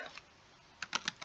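A short, quiet burst of keystrokes on a computer keyboard while coding a Hangman game, about five crisp taps clustered near the end after a near-silent start.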